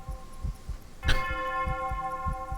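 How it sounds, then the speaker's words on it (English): A single bell strikes as a clock marks midnight, one clear ringing tone that hangs and slowly decays over a soft, rhythmic low throbbing pulse. "A bell can be heard off in the distance as the clock strikes 12."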